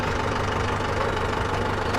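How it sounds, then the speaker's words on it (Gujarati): A tractor engine running just after starting, a steady close diesel idle with a low knocking throb, even and alone. "હવે ટ્રેક્ટર ચાલુ થઈ ગયું છે"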